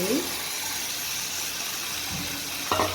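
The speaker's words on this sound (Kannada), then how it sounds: "ನಿಮಗೆ ನೀರು ಹಾಕ್ಕೊಳ್ಳಿ ಸ್ವಲ್ಪ" Water poured into a pan of vegetable kurma, a steady broadband gush that runs the whole time with a brief clink near the end, moderately loud and close.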